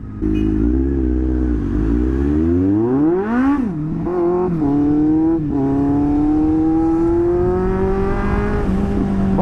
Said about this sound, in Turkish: motora yine aynı egzozu taktık